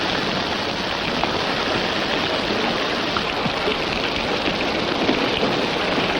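Steady heavy rain hisses continuously, a dense even wash of falling water played as a sound effect in a radio western, with no voices over it.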